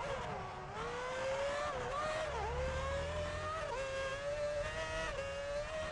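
A high-revving F1 race car engine from the F1 Championship Edition game at the Brazilian Grand Prix, whining steadily with pitch dips and climbs through gear changes, joined by a low rumble.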